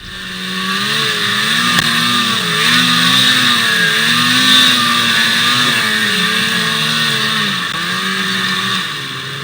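An off-road vehicle's engine revs hard while climbing a steep hill during a bison hunt trip, a sustained loud drone that rises and falls in pitch with throttle changes and continues without pause.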